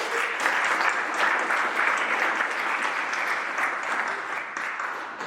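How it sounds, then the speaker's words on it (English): A conference audience at an evening performance of readings and poetry at Wake Forest University breaks into sustained, dense applause that fills the room and holds steady for several seconds before tapering slightly. "let's just give a round of applause to all of us"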